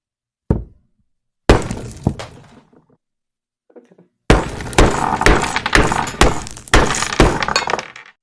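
A brittle, shiny cube-shaped crystal breaking: a few sharp isolated cracks with ringing decay, then a rapid run of crunching, clinking shatter sounds, close and loud.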